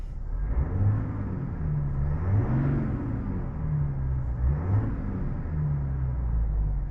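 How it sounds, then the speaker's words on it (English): A 2022 Chevrolet Silverado LTZ with the 3.0L Duramax diesel, heard from inside the cab as the engine is revved a couple of times, its low rumble rising and falling steadily. "I'm gonna be quiet for a second just to see maybe if you can hear the diesel sound. I'll give it a couple of revs."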